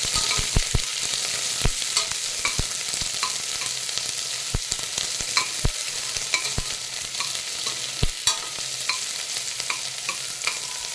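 Two chopped onions frying with mint in a pan for cauliflower gravy, a steady hiss of sizzling oil with occasional sharp clicks and scrapes of stirring.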